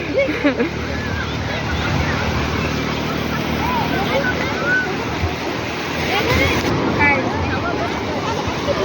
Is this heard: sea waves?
yes